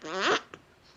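A man vocally imitates a zipper with a quick, rasping buzz that rises in pitch and cuts off after a fraction of a second, followed by a short click.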